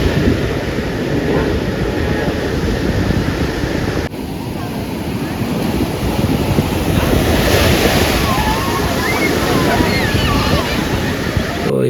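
Ocean surf rolling onto RK Beach in Visakhapatnam, a steady broadband roar of breaking waves with wind buffeting the microphone throughout, loud and close, with faint voices in the background.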